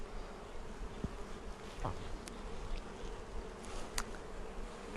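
Honey bees swarm around an opened hive during a pre-spring inspection, a dense, steady buzzing drone that fills the whole stretch, close and continuous, with a few sharper passes of single bees near the listener.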